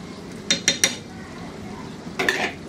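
A spoon scrapes and clinks against a pan while stirring potol korma with garam masala, three quick close knocks followed by a softer cluster of metallic scraping.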